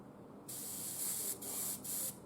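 An airbrush fitted with a 0.4 needle sprays thinned paint in three steady hissing bursts with short breaks between, close and loud over a quiet background.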